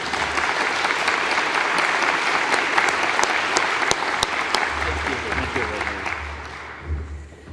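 Conference audience applauding a government minister at the opening session of a Canadian humanitarian conference, sustained loud clapping with sharp individual claps standing out, gradually thinning toward the end as a low hum remains.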